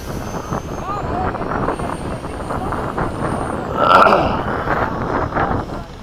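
Radio-controlled model jet, likely an FMS 70mm F/A-18, Eflite 80mm F-4 or Freewing 80mm Mirage flying in formation, spooling up with a steady whining roar that swells midway, heard under people talking outdoors.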